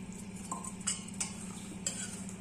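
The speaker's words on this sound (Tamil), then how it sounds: "மாவுலாம் நல்லா கோட்டாகிற மாதிரி நல்லா சேர்த்து விட்டுடலாம்." Cauliflower florets are stirred into a flour batter with salt, a little oil and water, making a soft wet mixing sound with a few light clicks of a spoon against the bowl, faint and close, with no voices.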